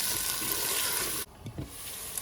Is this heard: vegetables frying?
yes